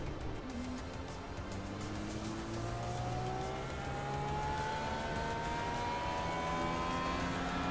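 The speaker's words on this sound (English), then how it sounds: "I could hear the car struggle" A race car engine in the iRacing sim drones and strains under load, with steady sustained tones rising slowly in pitch and continuous road and tire noise, fairly loud and without talk.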